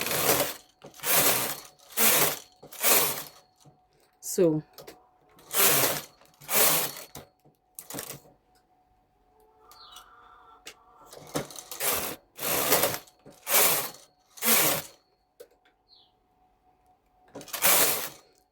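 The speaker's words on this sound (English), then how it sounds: "Then I'm going to knit few rows." A domestic punch-card knitting machine carriage is pushed back and forth across the needle bed knitting rows, producing a regular series of loud, close mechanical rasping sweeps separated by short quiet pauses, with faint handling clicks in between.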